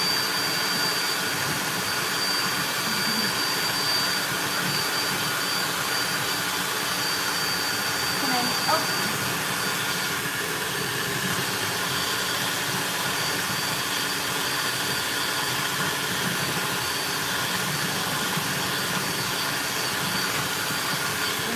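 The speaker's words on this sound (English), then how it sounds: "Using a hand mixer, you just always want to be moving the whole unit around your bowl." An electric hand mixer beats peanut-flour macaron batter in a bowl, giving a steady, close motor whir that holds evenly for the whole stretch.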